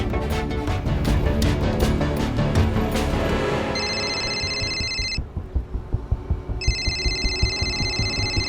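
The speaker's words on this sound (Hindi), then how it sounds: "किसी का भी फोन बजे" A telephone rings repeatedly in a tense police-drama scene, its electronic trilling bursts loud and clear after a dense, busy musical score, with pulsing low throbs between the rings.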